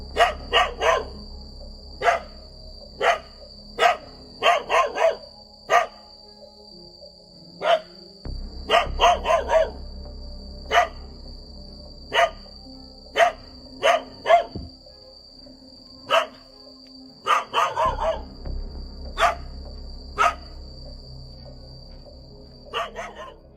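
A dog inside a rented house barks aggressively at a man nearby, giving sharp, close, repeated barks in uneven bursts over a low steady hum, with short pauses between volleys.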